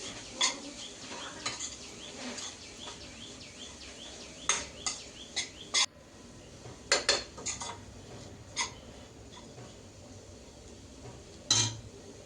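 Grated coconut being stirred into banana flower thoran in a pan, with a spoon scraping and clinking against the metal in irregular taps, the sharper clinks spaced through the stir over a faint kitchen background with a bird calling now and then.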